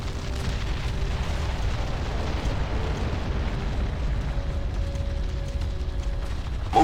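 Artillery bombardment in the strategy game Ground Control, a sustained dense rumble of overlapping explosions, loud and continuous, with a sharper burst at the very end and no voices.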